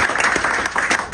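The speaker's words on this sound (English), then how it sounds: "You can clap for that, all of you." An audience claps in a short burst following a speaker's appeal at a community gathering, the dense patter of many hands fairly close and steady with brief swells.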